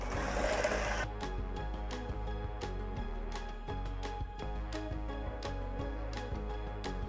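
An electric mixer blends sugar cookie dough made with egg, baking powder and vanilla in a bowl. The motor whirs steadily and quietly, with regular clicking ticks from the beaters against the bowl, and no voice over it.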